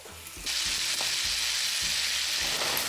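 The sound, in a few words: butter melting and sizzling in a pan with steak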